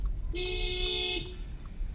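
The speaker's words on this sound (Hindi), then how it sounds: "लॉन्ग हॉर्न प्रेस करो" A single long horn blast from a Skoda Kushaq sounds for about a second, steady and clear, over a low idling background with no talking.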